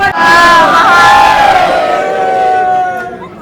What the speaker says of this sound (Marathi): फुल गर्दी गर्दी गर्दी गर्दी गर्दी.